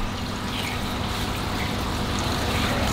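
Water rushes steadily into an ARKA CFF-1 fleece filter on a reef aquarium. It makes a constant, loud, close hiss with no pauses and no voices.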